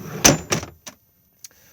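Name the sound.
storage drawer sliding out in an Auto-Sleepers Warwick Duo motorhome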